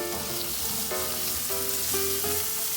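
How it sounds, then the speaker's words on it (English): Food frying in butter in a pan sizzles loudly and steadily while being stirred, with soft background music playing underneath. "I'm going to add a little bit of butter to it. All right, and then I'm going to stir them up a little bit."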